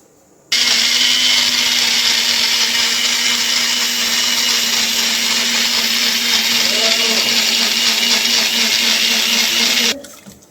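An electric blender whirs loud and steady for about ten seconds, grinding beetroot and amla into juice, then cuts off abruptly.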